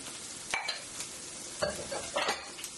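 Mushrooms go into a sizzling one-pan shrimp, sausage and vegetable stir-fry, a constant close hiss broken by bursts of scraping and clattering as they are tossed, with no voices.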